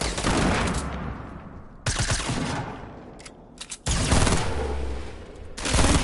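Rapid bursts of gunfire in a shooting video game, with dense automatic fusillades separated by brief pauses and a few isolated shots, loud and close.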